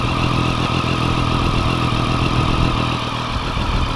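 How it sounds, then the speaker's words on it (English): A 2014 Triumph Street Triple motorcycle engine idles steadily up close, a continuous low, even rumble with a faint high whine running through it and no voices. "So this is what it sounds like when it's idling."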